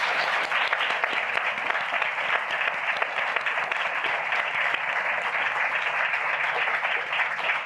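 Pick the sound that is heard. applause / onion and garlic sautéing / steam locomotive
applause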